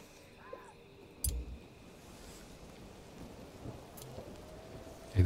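Rain falls steadily in the video game Mind Over Magic, with a few faint rumbles of distant thunder and some soft clicks over the continuous patter.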